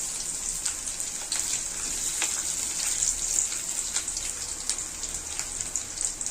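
Green chillies and onion frying in oil with roasted urad dal, a steady bright crackling sizzle running throughout with faint scattered pops, no voices.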